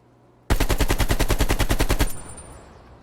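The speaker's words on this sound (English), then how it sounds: "Just gonna waste a few bullets" Rapid automatic gunfire from Call of Duty: Black Ops Cold War on PS5, a loud, steady burst of evenly spaced shots lasting about a second and a half, then cutting off into a fading tail.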